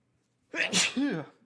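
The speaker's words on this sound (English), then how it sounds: "I'm going to sneeze." A single close, loud sneeze from a man, a sharp burst with a short voiced tail, heard alone in a quiet room.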